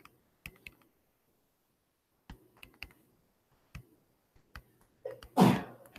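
A single loud sneeze bursts out near the end, preceded by sparse, quiet clicks and taps like keys or a pen in an otherwise silent room.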